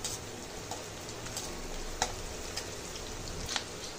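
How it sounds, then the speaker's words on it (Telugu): Curry leaves fry in hot oil beside dried red chillies with a steady, close sizzle. Small pops and crackles rise above the hiss, and no one talks. "కరివేపాకు 1-2 రెమ్మలు వేసుకోవాలండి. ఇది కొంచెం ఫ్రై చేసుకోవాలండి."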